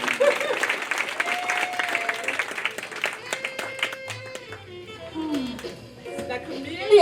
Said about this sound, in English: Clap a little bit more.